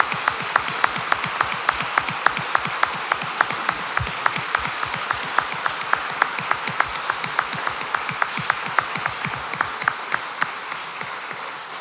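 A sustained, steady round of applause from the audience at a lawyers' swearing-in ceremony before the Supreme Court, with many close, crisp claps running evenly throughout and no voices.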